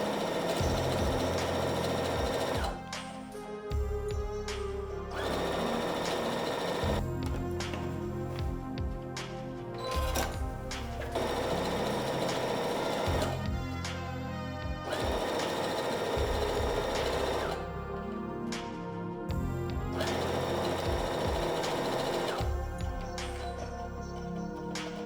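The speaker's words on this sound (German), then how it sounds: "Da könnt ihr einfach gerade runter nähen, auch wieder vorne verriegeln." A sewing machine stitches a straight seam on summer shorts in repeated bursts of rapid mechanical whirring, stopping briefly between runs, close and clear with no talking.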